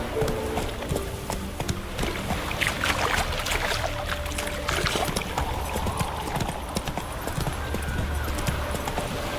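Roach the horse galloping in Witcher 3, fast rhythmic hoofbeats pounding continuously and close, with a loud steady clatter and brief whinnying touches amid ambient game sound.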